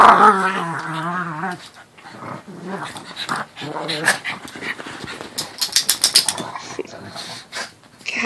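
Pugs playing indoors make rough growling and snorting noises, loud and close, with a person speaking briefly partway through and scuffling bursts near the end.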